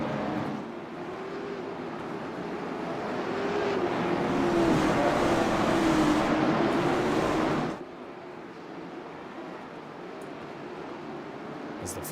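Late model race cars circle New Smyrna Speedway, a steady loud engine drone swelling as the field passes near, then dropping abruptly to a lower, more distant rumble.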